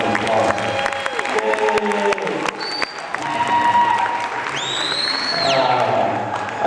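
A crowd at a school mini powwow applauds an honoree, the clapping steady but fairly soft beneath tonal sounds and a voice, with some cheering mixed in.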